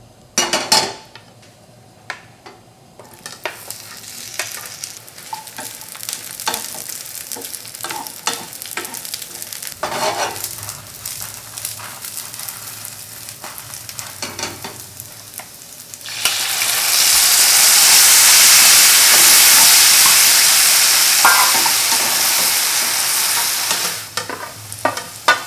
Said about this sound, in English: stir-fried fish cake.